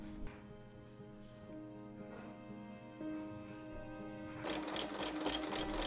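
A sewing machine stitches plush Sherpa fabric with a steady mechanical whir, then shifts into a faster, louder rattling run of needle strokes near the end, close-up and with no voices.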